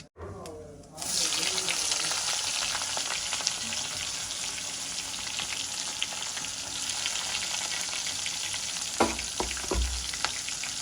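Mustard seeds, fennel, onion and green chili fry with a steady, close sizzle in hot oil, and a few clinks and stirring knocks come near the end.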